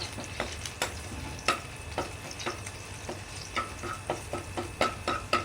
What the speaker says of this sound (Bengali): তেলটা জ্বলে গেছে, এবার থেতো করা রসুনটা দিয়ে দিচ্ছি।